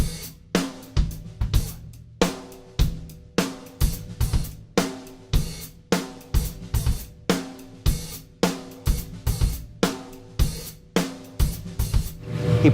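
A drum kit plays a funky, syncopated groove, with loud kick and snare hits and busy cymbal work repeating in a steady, tight pattern, close and alone without talk.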